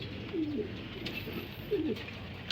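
Pigeons coo softly in a couple of low, rolling calls over steady background noise, with no talking.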